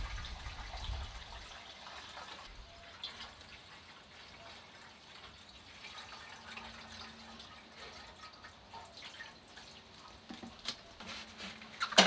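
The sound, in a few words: water being emptied from a moped fuel tank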